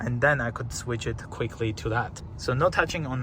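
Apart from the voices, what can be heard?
No everyday noises stand out.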